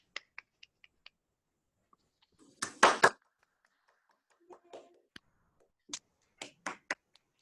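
Sparse, scattered claps and taps from a handful of online awards ceremony participants over a video call, with a short cluster of louder claps in the middle and isolated faint ones around it, amid near silence.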